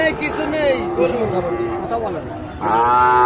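Calves at a busy rural cattle market mooing in long, drawn-out bellows that overlap, loud and near, with a fresh close moo near the end over background crowd chatter.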